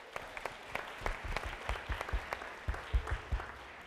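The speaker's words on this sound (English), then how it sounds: "Can we give them a hand of applause?" Applause at a talent acquisition technology event, a modest group of people clapping in scattered, uneven bursts, fairly soft and somewhat distant.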